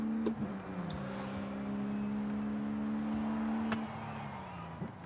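Simulated car driving in Forza Horizon 5, played with a Porsche wheel rim and paddle shifters: a steady engine drone holds at an even pitch for several seconds, then drops in tone as if easing off, with a few faint clicks.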